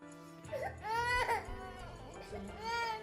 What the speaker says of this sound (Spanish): Mi hija se despertó de repente gritando